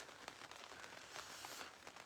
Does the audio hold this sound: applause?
no